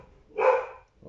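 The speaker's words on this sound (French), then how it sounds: "je ne sais pas pourquoi les chiens aboient" Single dog bark at night, one short sharp bark at moderate distance against a quiet background.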